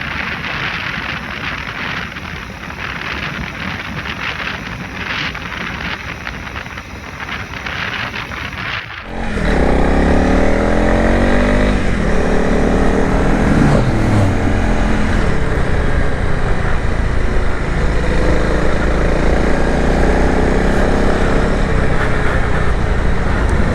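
Honda CRF 300L motorcycle with upgraded suspension riding on a road, steady loud engine drone and wind rush throughout, with a quieter stretch before it swells and holds near the microphone.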